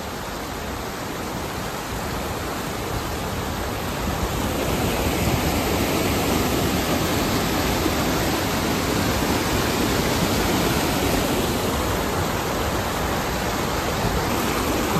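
The Ethipothala waterfall rushes with a loud, unbroken roar of falling water that fills the whole scene, steady and close with no voices.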